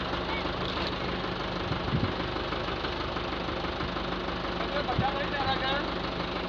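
Tractor engine running steadily near a tree, a continuous low rumble with a couple of brief knocks, heard close with a voice speaking over it.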